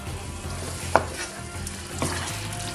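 Diced tomatoes sizzle gently in a pan for a tilapia fish curry while a spoon stirs them, giving a soft steady fry with one brief scrape near the start and another later.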